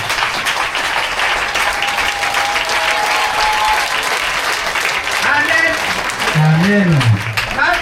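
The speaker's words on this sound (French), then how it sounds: "La maman demande qu'on se tienne debout pour acclamer pour Dieu." A church congregation in Bouaké stands to applaud and cheer, with sustained loud clapping and cries throughout and a voice calling out over the noise.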